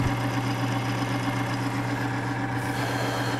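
Bearing test rig running dry without oil under heavy shock load, a steady mechanical drone with a low hum and even, continuous grinding, close and alone.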